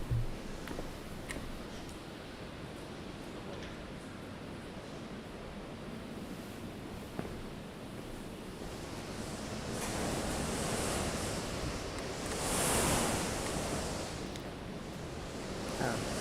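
Strong wind roars across the microphone on a very windy day, a continuous rushing noise that swells in gusts toward the end, with no voices.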